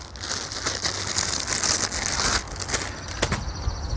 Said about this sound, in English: let me grab a cup, small cup right here